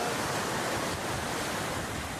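Sea waves wash ashore at Scalea on the Calabrian coast of Italy, a dense, unbroken roar of surf that stays loud and close throughout, with no voices.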